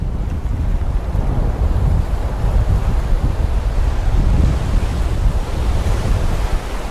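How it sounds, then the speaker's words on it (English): Strong windstorm roaring over a sailboat at sea, a steady loud rush of gusting wind and surf buffeting the microphone without a break. "This is the 10th day in a row of windstorms."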